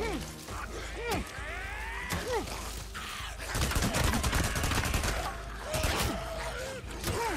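Gunfire from the video game Days Gone during a zombie-killing spree: repeated sharp shots and rapid bursts, with a dense fusillade in the middle, mixed with game grunts and gasps.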